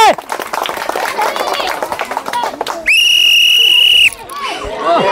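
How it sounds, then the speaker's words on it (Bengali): A referee's whistle blows one long, loud, steady blast lasting over a second to start a football challenge, cutting through crowd noise, claps and talk before and after it. "তো আমি বাঁশি দেবো, বাঁশির সাথে সাথে তোমার খেলা শুরু।"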